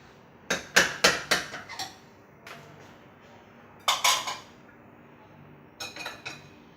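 A spoon knocks and scrapes against a pot while mutton biryani is stirred, giving a quick cluster of metallic clinks followed by softer scattered bursts, fairly close and alone in the room.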